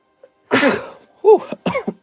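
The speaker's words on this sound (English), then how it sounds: "here comes the sneeze" A single sharp sneeze, triggered by stirred-up dust in a card shop, bursts out after a brief catch of breath, followed by a couple of short, quieter exhaled bursts, close and loud in a quiet room.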